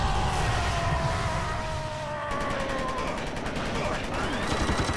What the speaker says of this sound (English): I'm dead already. Stop shooting at me.